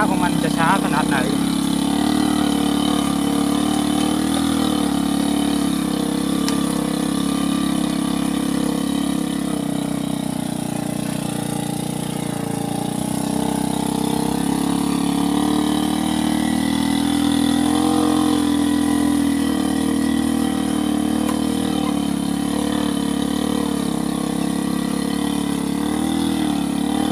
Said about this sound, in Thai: เดี๋ยวคอยดูว่าขึ้นโกกจะขึ้นไหวหรือเปล่าครับเกียร์สโลว์3ต่อมาดูว่าความช้าของมันจะช้าขนาดไหน